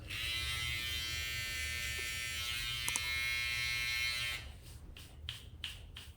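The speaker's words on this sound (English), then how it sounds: "Take your trimmer." An electric beard trimmer hums with a steady, loud high-pitched buzz, then switches into short pulsing bursts as it moves against the beard near the microphone.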